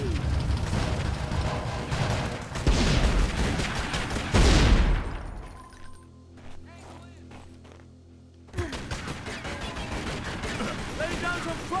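Dense gunfire bursts and a heavy boom in Tomb Raider: Legend, loud and continuous with a brief lull of mechanical rumble before the shooting resumes, with voices heard during the action.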